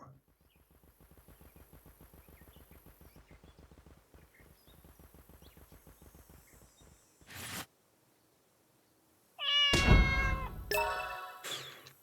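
Meows from a cat character in the video game The Good Life ring out loud and high, pitched over a long stretch of soft rhythmic footstep-like tapping, with a brief burst of noise before the cries.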